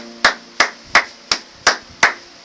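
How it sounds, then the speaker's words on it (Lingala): Six evenly spaced, sharp hand claps ring out at a Congolese Christian gathering, acclaiming the glory of Jesus; the claps are loud and close with a steady beat and a brief decay after each. "Acclamons pour la gloire de Jésus."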